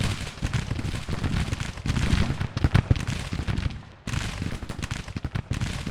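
Skirmisher gunfire from the Civil War strategy game Grand Tactician: musket shots crackle in irregular, overlapping volleys, a steady distant battle din with sharper reports standing out now and then.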